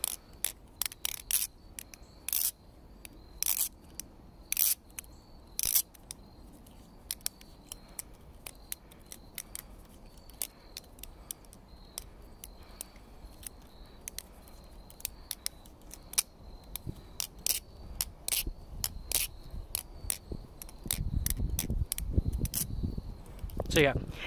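A Fellowship Blades Pit Viper balisong knife, unoiled, being flipped, giving rapid, sharp metallic clicks and clacks in irregular bursts, close and crisp over a quiet background.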